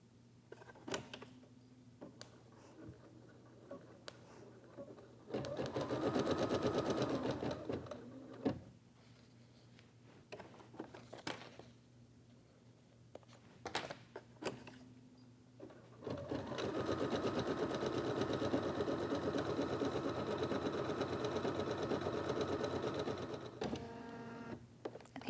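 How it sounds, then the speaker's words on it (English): Embroidery machine stitching eyelashes in black thread on a sleep mask, bursts of rapid mechanical needle chatter alternating with quieter pauses and small clicks, close and fairly soft, no talking. "we'll bring this back over to the embroidery machine. And the next step is stitching down the eyelashes."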